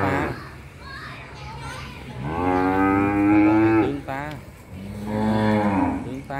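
Six-month-old F2 bulls on a cattle farm in Ben Tre, Vietnam, give two loud, drawn-out moos close by, with someone talking in between the calls.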